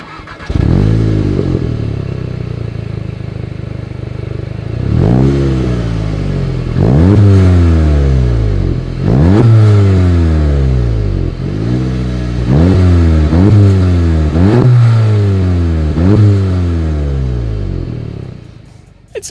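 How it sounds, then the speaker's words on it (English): A Volkswagen Golf GTI VII with dual exhaust tips revs in a series of sharp throttle blips, each rising and falling quickly, loud and close, with a few quiet pauses between bursts. "As always, here is that exhaust clip."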